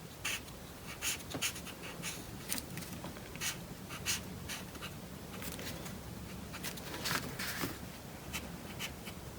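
Pen drawing on paper while making a pop-up Christmas card, quick scratchy strokes in short bursts, close and quiet.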